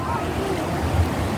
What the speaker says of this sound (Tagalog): Ayan ang alon boy.